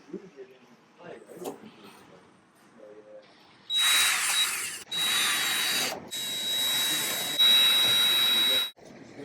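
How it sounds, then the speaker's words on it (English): A voice speaks briefly, then a power drill driving screws whirs loudly in several long bursts, close up, with short pauses between runs. "You take your drill or your screwdriver or whatever you're using."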